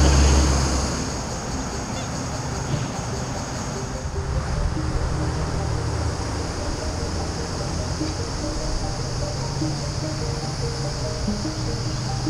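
Ducks honking beside a busy highway, their calls faint and scattered over a steady wash of road noise.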